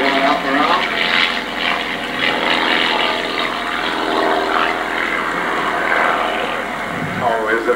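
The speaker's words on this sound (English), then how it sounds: "let's watch all 3 of these airplanes as they'll pull to the vertical at the same time on their next pass" Three Vanguard Squadron propeller airplanes pull to the vertical together at an air show, their engines a steady, loud drone that holds throughout with a slight swell near the end.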